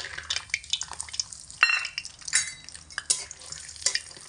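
Raw whole peanuts frying in oil in a wok over medium heat, heard as uneven bursts of scraping and rattling stirs over a soft, light sizzle.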